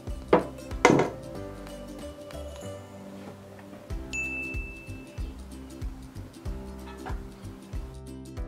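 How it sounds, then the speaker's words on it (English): Slime being stirred with contact solution in a bowl: irregular light clinks and taps of a utensil against the bowl, a couple of sharper knocks early on, over a faint steady tonal background. "next I need to put contact solution and mix it"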